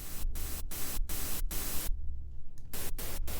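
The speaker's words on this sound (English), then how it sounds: "So this is what white noise sounds like" Steady broadband hiss fills the clip, broken by several brief dropouts and a longer gap with some residual rumble before the hiss resumes.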